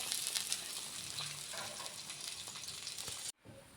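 Pizza pav frying in a covered pan with melting cheese, a steady soft sizzle and crackle that carries on evenly, then cuts off abruptly near the end before a faint quieter continuation.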